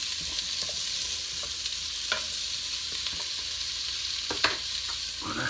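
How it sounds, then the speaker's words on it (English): Radishes and onions sauté in a Dutch oven with a steady sizzle and occasional scrapes and clicks of a utensil stirring, close and continuous. "I'm going to put in my radishes and the onions, kind of let those saute a little bit"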